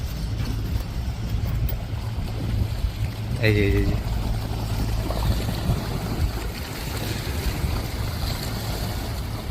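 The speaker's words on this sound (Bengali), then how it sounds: "বড় বোট গেল তো এবার ঢেউটা আসছে দেখুন" Water sloshing and slapping against a boat hull as wake waves from a passing large boat roll in, over a steady low rumble and wind; a person briefly speaks.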